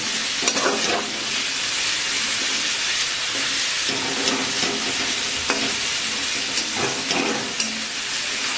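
Onion paste made from one large onion fries in a pan, a loud continuous sizzle and hiss with scraping stirs breaking through at intervals.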